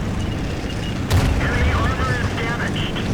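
Tank gunfire in an online tank battle game: a single sharp cannon boom stands out among distant rumbling battle noise and whistling effects, with someone talking throughout.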